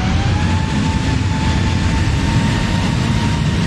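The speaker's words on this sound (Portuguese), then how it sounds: "Vamos ver a decolagem dele aí." An Air Canada airliner's engines at takeoff power give a loud, steady, broadband roar with a faint high whine running through it, unbroken by any voice.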